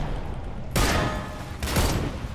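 Gunboat guns in the war game Foxhole fire in two heavy booming blasts about a second apart, each leaving a long rumbling tail, loud and close.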